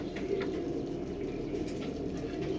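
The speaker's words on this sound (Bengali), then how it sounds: "দেখুন পায়রা" Pigeons kept as a pair coo softly in low, steady murmuring tones, with faint rustling and patter in the background.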